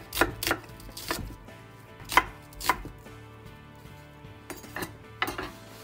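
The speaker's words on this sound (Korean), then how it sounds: "그 다음에 양파는 중간 거 하나를 채 썰어 주세요." A medium onion is julienned with a knife on a cutting board, sharp, close knocks of the blade spaced irregularly, roughly eight distinct chops in a quiet kitchen.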